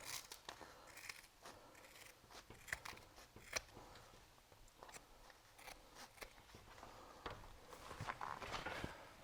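Trimming a Snirt Stopper bottom seal with a cutting tool so it clears the track: a series of short, close snips and crunchy cuts in an irregular rhythm, with scattered clicks and faint handling rustle between them.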